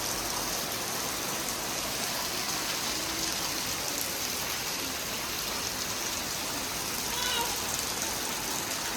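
Steady rain pours down in an even, close wash of hiss that holds without a break from start to finish, with no voices over it.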